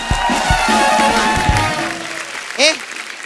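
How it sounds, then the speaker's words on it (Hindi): A studio audience at a comedy show claps loudly while someone talks over it, then the clapping fades and a short whistling chirp follows. "रॉकेट बॉयज के लिए एक बार जोरदार तालियां हो जाए।"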